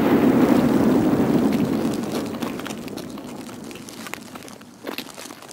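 A grenade explodes in an online shooter game with a loud, rumbling blast that fades slowly over several seconds, leaving crackling debris and a few scattered clicks afterward. No talking during the blast.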